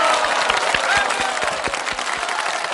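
An audience bursts into applause, a dense wash of many hands clapping steadily for a few seconds with scattered louder claps up front.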